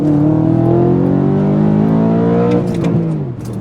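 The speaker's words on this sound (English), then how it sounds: "That is so punchy for a 4-litre engine" A loud BMW E92 M3 4-litre engine with a tuned Gintani Mille Miglia exhaust revs hard, pitch climbing steadily as it accelerates, then cuts off with a few clicks and a brief whoosh.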